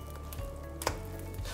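A browned banana pancake sizzles in a hot pan just after being flipped, giving a steady close frying hiss with a brief soft clatter near the middle.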